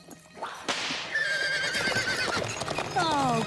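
A horse whinnies in a cartoon scene, its neigh rising over close clip-clopping hooves, with a voice talking over parts of the short, busy stretch.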